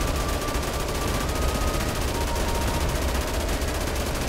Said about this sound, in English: I think I need to shoot it.